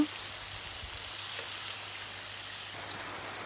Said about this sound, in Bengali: এক পাশ ভাজা হয়ে গেছে এবার উল্টে নেব